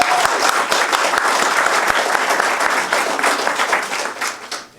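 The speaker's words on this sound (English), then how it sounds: "Let's have applause for that." A loud burst of sustained clapping from the audience at a young playwrights' event, dense and even throughout before tapering off at the end.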